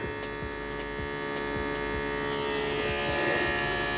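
A smoke leak tester machine runs with a steady electrical hum and faint rhythmic throbbing, close and continuous, with no voices.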